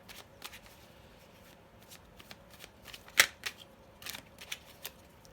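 Tarot cards are shuffled softly, a run of light riffling flicks and taps with one sharper snap, quiet and close.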